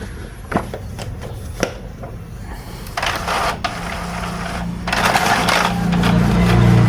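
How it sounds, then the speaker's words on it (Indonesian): An Epson L310 inkjet printer runs a test page, giving close mechanical whirring with sharp clicks and clacks that grow steadier and louder toward the end. "Kita akan coba print test pack."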